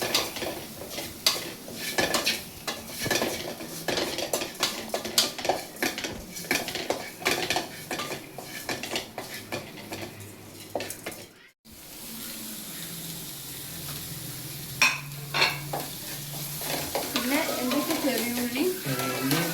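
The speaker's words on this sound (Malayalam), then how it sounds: "നമുക്ക് ഈ സിമ്മിലിട്ട് നമുക്ക് ഇളക്കാം" Fish curry with turmeric, fish masala and rock salt stirred in a pot on a low flame, a steady scraping and clinking of a spoon against the vessel over a soft sizzle, with a brief gap midway and no talk.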